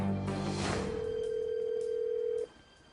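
A telephone line sounds as a call is placed, with a short rush of noise and then one steady tone held for about two seconds before it cuts off, close and clear, with no voices.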